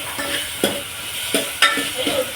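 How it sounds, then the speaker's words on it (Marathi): Curry leaves and tomatoes frying in hot oil for a Kokani chicken biryani masala, with a steady close sizzle broken by four sharp spoon-scrape clacks as the mixture is stirred in the pan; no one speaks. "त्यामध्ये आपण आता कढीपत्ता टाकला आहे, आपण पोलून घेऊया चांगले."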